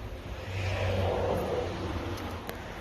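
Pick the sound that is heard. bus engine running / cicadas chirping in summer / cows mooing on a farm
bus engine running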